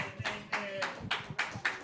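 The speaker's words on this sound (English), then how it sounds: "Let me get a round of applause over here." Classroom audience clapping in short bursts, about six quick claps spaced across the moment, close and fairly loud, with a faint voice underneath.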